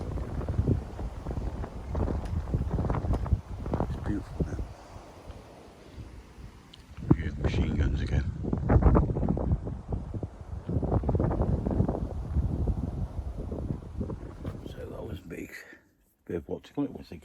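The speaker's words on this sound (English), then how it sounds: "that's what the only noise you get up here is the roar of the wind." Wind gusts roar and buffet an exposed hilltop microphone in the early morning, coming in loud surges with brief calmer gaps, while someone talks over it.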